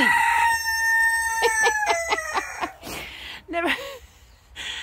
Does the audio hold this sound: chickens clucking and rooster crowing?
yes